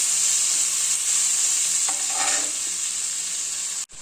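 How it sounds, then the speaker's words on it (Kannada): Sambar powder and onions frying in a pan as a quarter bowl of water is added, giving a steady hiss with a brief louder bubbling sizzle near the middle, close and alone, ending in a short cut. "ಈಗ 1/4 ಬೌಲು ವಾಟರ್ನ ಆ್ಯಡ್ ಮಾಡ್ತಾ ಇದ್ದೀನಿ."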